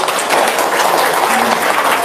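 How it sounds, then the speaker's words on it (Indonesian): An audience gives a burst of loud, dense applause, many hands clapping close together in a continuous, uniform roar that fills the whole short moment without a break. "Tepuk tangan dulu dong biar semangat."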